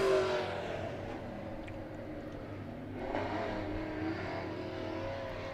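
B Modified race cars roar around the dirt oval at Monett Motor Speedway during a heat race, a steady distant engine drone that swells as cars pass.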